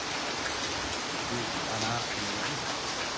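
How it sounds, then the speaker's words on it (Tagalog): Heavy rain pours down steadily in a dense, unbroken hiss that fills the air, with a single brief word spoken beneath the downpour. "At naulan, oh. Ang lakas ng ulan."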